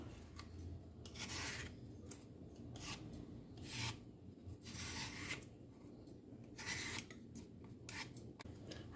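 A knife peels the skin off an apple in soft, rasping scraping strokes that come in irregular bursts, close and faint.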